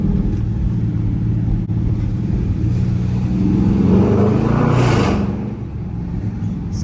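A Dodge Charger R/T engine drives through Times Square in New York City, a loud steady close rumble that swells briefly as it accelerates, then settles back to a lower hum.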